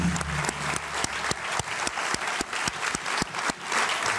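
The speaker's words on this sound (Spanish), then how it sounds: "Un aplauso para Sofi y su mamá" Audience applause for a young girl named Sofi and her mother on a live TV variety show, dense steady clapping throughout with a few louder claps standing out, no talk over it.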